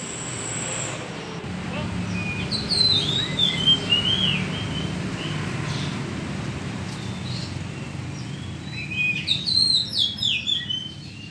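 Spotted dove (tekukur) calls near a house, with faint chirps and bird notes over a steady background hum. A brief whistle-like call opens the clip, and a flurry of chirping comes near the end.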